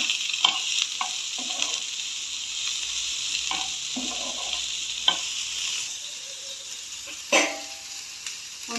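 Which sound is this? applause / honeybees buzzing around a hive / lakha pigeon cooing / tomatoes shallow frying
tomatoes shallow frying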